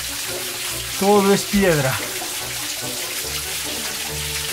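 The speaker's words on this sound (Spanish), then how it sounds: "El agua impacta en estas zonas de acá, que lo podríamos llamar un álabe" Water rushes steadily through an old stone mill in a village, a continuous broad splashing roar at close range, with someone briefly speaking over it.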